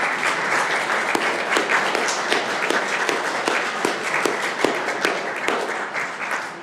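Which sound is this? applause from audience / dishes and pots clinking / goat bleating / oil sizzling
applause from audience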